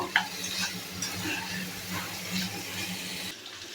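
Prawns sauté in a spice masala, a close, steady sizzle with stirring scrapes and a brief clatter near the start, running alone without talk.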